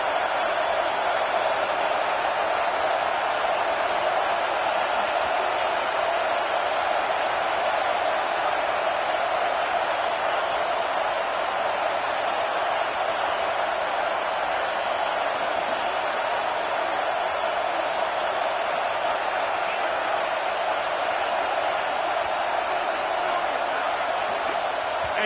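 Stadium crowd noise in a college football video game, a steady loud roar of a large crowd sustained without letup, with no distinct cheers or breaks.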